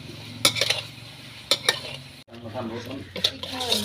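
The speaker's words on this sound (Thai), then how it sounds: "กวนปลาไหลให้สุกก่อนนะครับ ถึงจะแกง เพื่อดับกลิ่นคาวนะครับ" Eel pieces are stirred in a pan as they cook, a spoon scraping and clacking against the metal over a soft background sizzle, with a few sharp strokes standing out close by.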